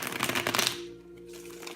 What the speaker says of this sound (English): So let me go ahead and shuffle these right away cards.